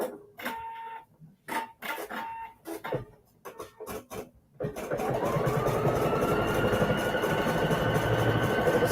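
A felting embroidery machine runs a felting embroidery design, its steady, loud mechanical whir and rapid stitching beginning about halfway through after a few scattered knocks and clicks.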